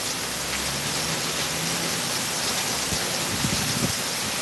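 Rain falls steadily, a dense, even hiss of drops that holds at the same level from start to finish with no voices.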